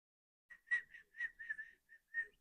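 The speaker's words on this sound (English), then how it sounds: "you whistle better than me" A person whistling a short, quiet tune in a few clear notes with small gaps between them, close and alone against silence.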